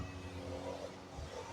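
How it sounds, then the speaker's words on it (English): A small single-engine light aircraft drones overhead on a warm morning, a faint, steady low hum with a slight rising whir, distant and unbroken by talk. "Light aircraft up there."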